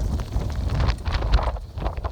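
A strong wind blows during a sandstorm along the Bued River in Sison, Pangasinan. It is a loud, continuous roar with gusts buffeting the microphone and a heavy low rumble throughout.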